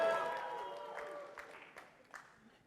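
A conference keynote audience at GraphConnect 2022 cheers and applauds, a fading wash of clapping with scattered sharp claps as the noise dies down, no voices standing out.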